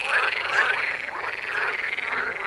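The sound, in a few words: frog croaking in a story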